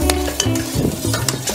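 Garlic hits a hot pan while cooking binagoongang baboy, sizzling and frying loudly with scraping stirs of a utensil across the pan in quick, uneven strokes.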